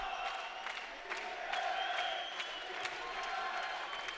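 Spectators at a women's volleyball match between Dinamo Kazan and Fenerbahce keep up a continuous roar of cheering, with rhythmic claps and scattered whoops punctuating the crowd noise.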